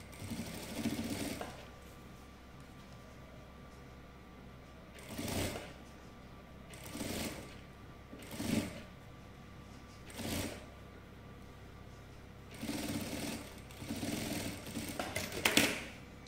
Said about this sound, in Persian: حالا این تیکره به تیکه پایینی میدوزم.